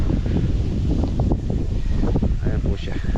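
Gusty wind buffets a microphone across open farm land, a steady broadband rush that swells and dips for about three seconds, with faint rustling beneath.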